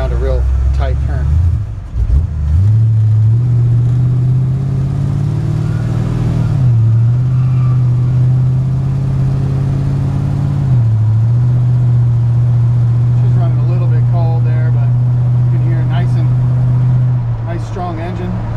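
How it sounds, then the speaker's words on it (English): A 1956 Ford F-100 pickup's engine hums steadily while driving, rising in pitch and dropping twice as the transmission shifts, with someone talking over much of it. "Strong engine, transmission shifts like it's supposed to."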